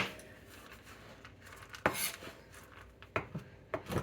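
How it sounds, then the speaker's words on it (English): A knife roughly chops Ghirardelli semi-sweet chocolate chips (60 to 65%) on a board: a few scattered, crisp chops, close but fairly quiet, over a soft background hush. "I'm going to roughly, as they recommend, roughly chop the chocolate chips"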